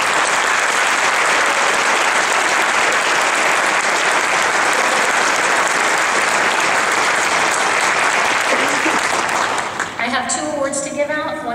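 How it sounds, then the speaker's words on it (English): An audience at an academic recognition ceremony applauds loudly and steadily for about ten seconds, fading out as a voice begins speaking. "I think they all deserve a round of applause."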